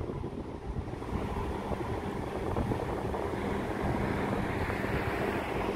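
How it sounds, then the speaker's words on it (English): Breezy outdoor wind rushes steadily across the microphone, a broad, constant roar that swells slightly louder partway through, with no voices. "It's just a bit bloody breezy."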